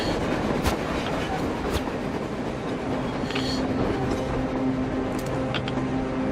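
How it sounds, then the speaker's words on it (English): A train rolls across the surface in the video game Metro Exodus, giving a steady mid-distance rumble with faint clickety-clack and a few metallic squeals and tonal hums, and no voices. "A train! A damn train on the surface!"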